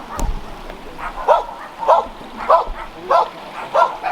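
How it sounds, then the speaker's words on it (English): A dog barks in a steady rhythm, about six evenly spaced barks, moderately loud and a short distance away, with no one talking. "Okay, excuse the barking."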